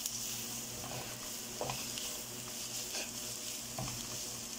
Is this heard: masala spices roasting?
yes